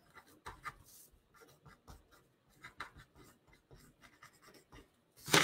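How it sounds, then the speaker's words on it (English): Marker or chalk scratching across a board in short strokes, close and fairly quiet, with brief pauses between words being written. "Let me write it."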